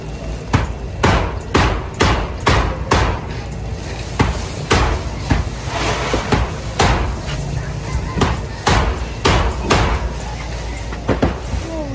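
Repeated hammer blows ring out on a house roof while insulation is being fitted, sharp knocks arriving in quick bursts and then spaced apart, fairly close and loud against a steady background.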